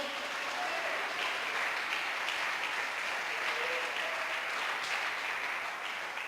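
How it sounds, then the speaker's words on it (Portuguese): A church congregation claps together in steady, sustained applause that fills the room, dense and even throughout without a break. "Você pode aplaudir o Senhor?"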